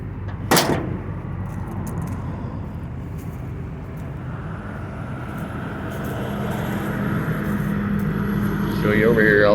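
On a 1985 Chevy K10 Custom Deluxe pickup, a single sharp metallic clunk from the tailgate sounds near the start, followed by steady outdoor rumble and a hum that slowly grows louder.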